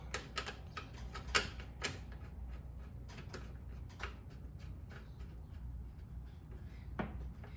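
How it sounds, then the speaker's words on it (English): Metal nut and bolt being tightened into a window frame on a rare 1953 La Cabana vintage camper, giving irregular close clicks and ratcheting ticks, with a few sharper knocks standing out over a low steady background hum. "put this new nut and bolt in there, and then just tighten it down"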